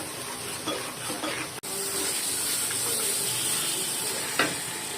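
A raisin and nut paste sautéing in a pan with a dense, continuous sizzle. A sharp click breaks in briefly partway through, and a spatula scrapes near the end.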